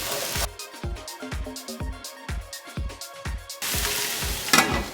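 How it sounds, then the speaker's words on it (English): Vegetables stir-fried in a hot pan with garlic, giving a loud hiss broken by repeated scraping and clanking strokes of a utensil, with the sizzle surging again near the end, heard up close and without talk. "Get ready for the sizzle."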